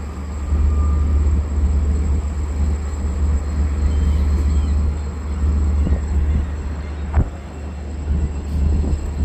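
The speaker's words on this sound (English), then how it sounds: "the Penn train's leaving" Penn Station-bound train pulling out of Babylon station, a loud continuous rumble and roar of rail cars passing close by, with a sharp clank partway through and no talking.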